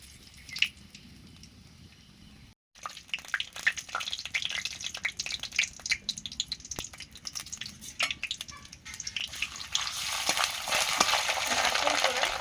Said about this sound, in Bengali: সর্ষের তেল দিয়ে গোটা জিরে দিলাম